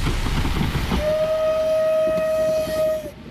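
A vintage railcar rumbles along the Břeclav–Lednice line with a steady, loud drone, and a long sustained horn blast sounds through the middle before fading.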